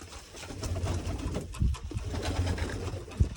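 Pigeons coo in low, repeated throaty rolls at close range over a steady murmur of background noise, with a couple of louder coos standing out near the end.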